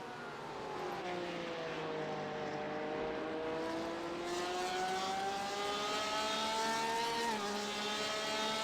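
Several GTE race cars in a racing video game roar past in a steady, loud stream, engine notes sweeping and shifting through gears with no talk over them.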